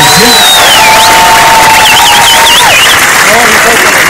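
Concert crowd applauding and cheering at an open-air 30 August Victory Day show in Manisa, loud and dense throughout, with whistles and shouts over steady clapping and a voice briefly over it.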